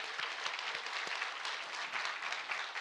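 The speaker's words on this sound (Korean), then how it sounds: "하나님께 감사의 박수 올리겠습니다." Congregation applauding in church during a Korean early-morning worship service, a steady dense wash of many hands clapping throughout, fairly distant and reverberant with no voices over it.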